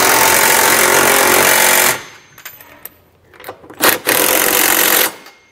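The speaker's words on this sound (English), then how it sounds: "we can go back now and tighten them down. We're going to use a 19mm socket to do so." An impact gun drives the 19mm trailer hitch nuts on a 2019 Jeep Cherokee, loud rapid hammering bursts close by, separated by brief quiet with small clicks.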